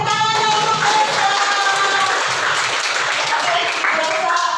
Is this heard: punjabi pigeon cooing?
no